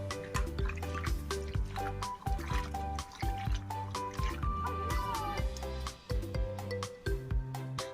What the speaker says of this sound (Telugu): ఒక దోసెడు తీసుకుని ఇలా గిన్నెలో వేసుకుని కడుక్కోవడమే శుభ్రంగా.